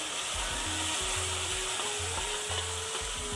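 Onion-coconut masala paste sautéing in a pan for a clam curry, a steady frying sizzle with rhythmic low thumps of stirring throughout, no voices.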